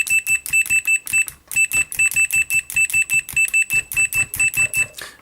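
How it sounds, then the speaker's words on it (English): Continuity buzzer of a Fluke 177 or 179 multimeter, loud, clear, close beeps that pulse in fast repeated bursts as probes are tapped, with one brief gap. "So a nice clear loud buzzer on that."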